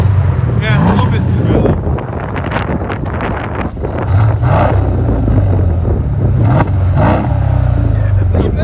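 A 2014 Mercedes CLS 550 V8 with a muffler-deleted dual exhaust revs loudly and steadily, its throaty rumble swelling several times under heavy wind buffeting on the microphone.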